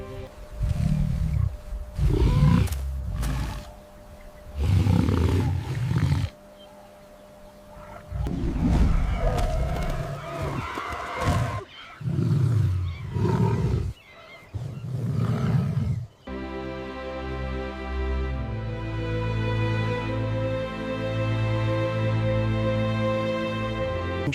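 A lion roars on the savannah in a run of loud, deep, rumbling bursts, then the sound gives way to a sustained orchestral music bed.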